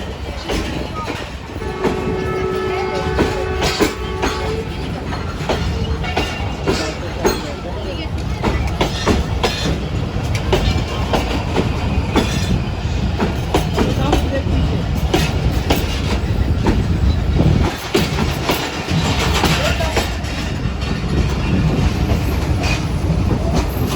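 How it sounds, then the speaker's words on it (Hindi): The Awam Express rolls out of Drigh Road station with a loud, continuous rumble and clatter of carriages and wheels, heard from on board, with voices in the background. "हमारी ट्रेन भी रवाना होने लगी है यहाँ से।"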